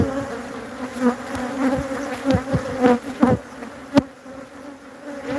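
Honeybees buzz densely around a hive, a continuous hum with individual bees swelling louder as they pass close by.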